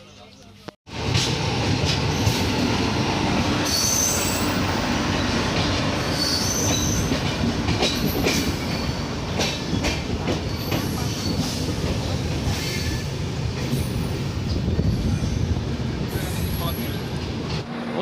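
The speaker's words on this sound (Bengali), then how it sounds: "আমাদের সাইরাং এক্সপ্রেস এখন এসে দাঁড়ালো মালদা টাউন স্টেশনে" The Sairang Express (13126), running late, pulls into Malda Town station in India with a steady, close rumble of railcars and sharp, intermittent wheel squeals throughout. Muffled background voices are present but stay low.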